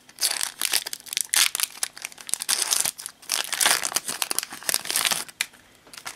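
Crinkly foil wrapper of a Pokémon card booster pack being torn open and crumpled up close, with irregular bursts of sharp crackling and tearing throughout.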